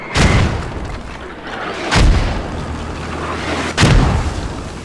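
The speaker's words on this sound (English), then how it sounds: "I wonder where those mortars are gonna land." Mortar shells land in the video game Operation: Rook, three heavy booming impacts spaced about two seconds apart, each a deep, loud thud with a rumbling tail.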